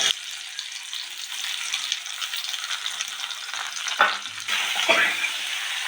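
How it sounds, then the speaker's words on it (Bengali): Stone-ground spice paste being stir-fried with papaya and potatoes in a pan, a steady close sizzle with scraping spatula strokes and a couple of louder stirs near the end, no talking. "আমার এই শিলে বাটা মশলাটা আমি পেঁপে আলুর মধ্যে দিয়ে ভালো করে কষিয়ে নেব।"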